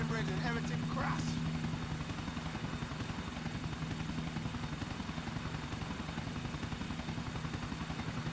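A helicopter in Grand Theft Auto IV drones with a steady rotor thrum and engine hum throughout, while voices talk over it.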